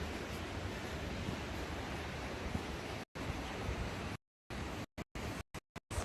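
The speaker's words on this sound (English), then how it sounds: "The creek really is roaring." A roaring creek heard outdoors on an afternoon walk: a continuous, fairly faint broadband wash of rushing water, broken by several abrupt dropouts toward the end.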